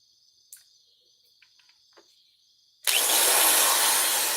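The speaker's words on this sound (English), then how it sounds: "It's only a drill." A quiet high whine and a few small clicks give way to a loud, harsh motor roar that starts suddenly and runs steadily to the end.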